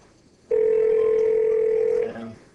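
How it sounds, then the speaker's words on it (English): An office desk phone going off the hook gives a loud, steady electronic tone held for about a second and a half, close and clear, then cutting off with a brief softer tail. "you'll notice my desk phone just went off the hook"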